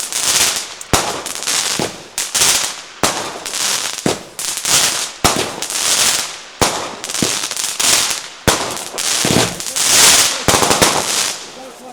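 Fireworks explode in rapid, dense bursts of loud bangs and crackles for about twelve seconds, with short gaps between volleys and a close, booming character.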